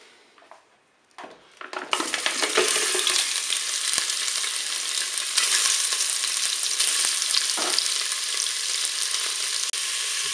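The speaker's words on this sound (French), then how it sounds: "Je vais faire revenir mes boulettes de bœuf." Beef meatballs brown in preheated oil inside a Cookeo multicooker, and after a few soft handling knocks a loud, continuous sizzle and crackle of frying sets in and holds steady to the end.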